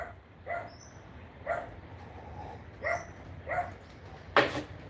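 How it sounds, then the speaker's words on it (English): A dog barks about five times, spaced and somewhat distant, over a low, steady background hiss, followed by a brief sharp noise at the end. "She started barking now."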